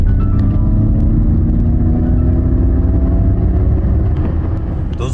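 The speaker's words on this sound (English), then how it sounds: "that propulsion sound adds a virtual vroom to the proceedings" A steady, loud low-pitched synthetic hum with rising tonal layers, a Ford Mustang Mach-E electric car's simulated engine drone building slightly, continuous throughout.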